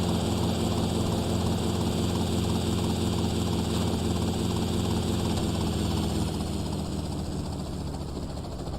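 A helicopter flies in the video game GTA Vice City, its loud rotor and engine drone holding steady and close for the whole stretch with no talking.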